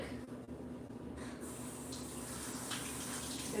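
Water runs steadily from a sink tap while hands are washed in a home kitchen during baking, a continuous close splashing hiss with no voices over it.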